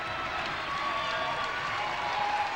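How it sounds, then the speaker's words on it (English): Basketball crowd in a high school gym cheering and clapping for the Saline Hornets at a district semifinal, a steady wash of applause and crowd noise at moderate distance throughout. "the Saline crowd loves the effort from their Hornets"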